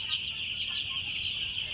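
Three-day-old farm chicks packed tightly together in a crowded pen keep up a constant high chorus of chirping and clucking, steady and moderately quiet across the whole short stretch.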